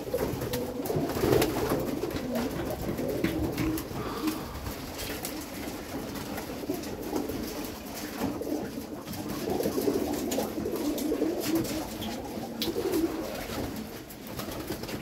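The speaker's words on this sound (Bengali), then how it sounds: "আমাদের এখানে মোটামুটি 400 কবিতর আছে।" About 400 pigeons cooing together in a loft in a soft, continuous chorus, with scattered rustles and wing flutters throughout.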